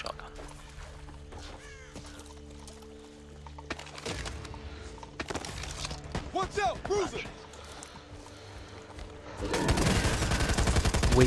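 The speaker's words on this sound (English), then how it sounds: "Shotgun." Shotgun blasts in the co-op zombie shooter Back 4 Blood, sharp broadband bursts among other game gunfire and effects, with a heavy, louder volley near the end.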